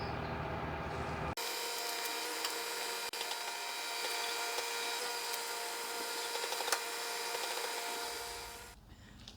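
Wet sanding a VW Golf MK5 headlight lens with 1000-grit sandpaper: a steady, close, continuous abrasive scrubbing that starts abruptly and runs for several seconds before easing off, with no talking.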